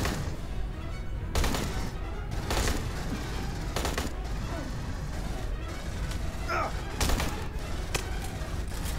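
Gunfire from the video game Aliens: Colonial Marines: repeated sharp shots and short bursts over a steady, busy game background, with a few louder cracks standing out.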